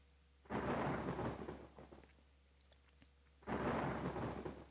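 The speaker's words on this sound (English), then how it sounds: "There's thunder again." Thunder in the Windows 3.1 video game Uninvited, two heavy rumbling crashes a few seconds apart, loud and close, each fading out, with no one speaking.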